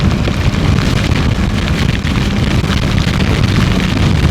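Steady, loud rain pouring down during a ride on a Kawasaki Ninja 650 motorcycle, a dense continuous hiss mixed with road and wind rumble, with no voices.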